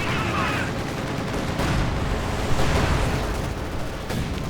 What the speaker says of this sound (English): Artillery going in against snipers